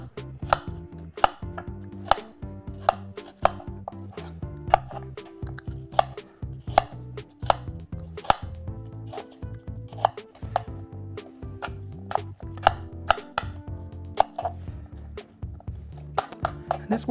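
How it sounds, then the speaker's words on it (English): Steady knife chopping of apples on a cutting board for apple fritters, sharp repeated knocks in an even rhythm, close and clear, with no talk. "we're going to get these apples cut, ready to go."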